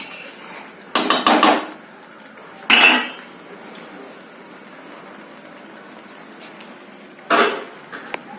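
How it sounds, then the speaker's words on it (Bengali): A metal lid goes onto a pot of chicken and potato curry in a home kitchen, three sharp clanks and rattles spaced out over several seconds, close and clear, with quiet room noise between them. "আমি এবার ঢাকা দিয়ে দিচ্ছি।"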